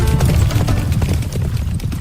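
Horse hooves clip-clop steadily and close by, suggesting a large mounted troop convoy assembled during the First World War, with a dense low rumble under the repeated strikes and no voices.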